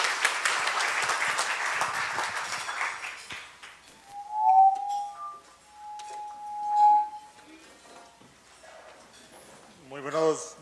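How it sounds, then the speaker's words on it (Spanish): Warm applause from a conference audience welcoming speaker Mauricio Faciolince at a 25th-anniversary celebration, a dense burst of clapping that fades after a few seconds, followed by a few clear ringing glass-like tones. "Recibamos entonces con un caluroso aplauso al señor Mauricio Faciolince."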